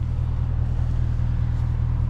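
A Dodge Charger R/T's 5.7-liter V8 with a straight pipe, no resonators or mufflers, catalytic converters still on: a steady, deep rumble at constant idle, loud and close, with no revving and no voices.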